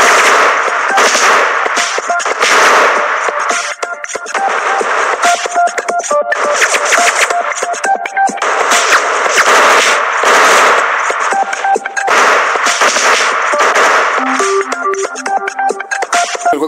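Rapid gunfire bursts ring out continuously through a mobile action shooter game on Android or iOS, dense and loud with layered shots and impacts, while faint tonal game sounds sit underneath.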